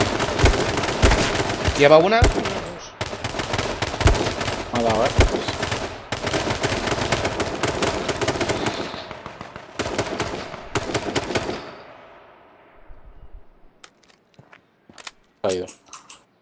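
Rapid automatic gunfire in the battle royale game H1Z1, long loud bursts of shots with brief pauses, then scattered single shots, while players talk over it.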